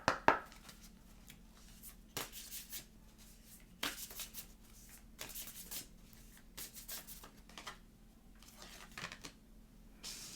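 Moonology oracle cards are shuffled in short, crisp riffling bursts with soft rubbing between them, close and fairly quiet with no talk.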